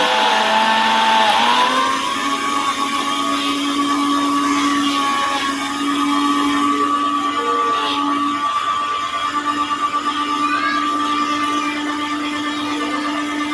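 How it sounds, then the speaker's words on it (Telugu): An electric mixer grinder blending apples into juice runs steadily and loudly, its motor drone and whine dipping in pitch briefly near the start, then holding an even, continuous hum throughout. "క్యాప్ ఫిక్స్ చేసుకొని మిక్సీ ఆన్ చేసుకోవడమే."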